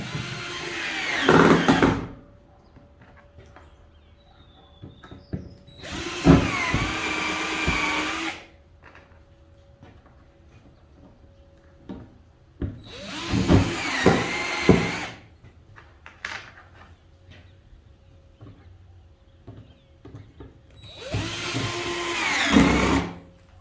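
A power drill drives fasteners into a newly built English joiner's workbench, four separate bursts of whirring a few seconds each, separated by quiet pauses, close and fairly loud.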